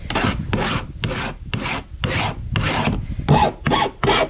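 A file rasps along a raw edge during roof and exterior trim repair, in about nine even back-and-forth strokes, close and loud with short pauses between them.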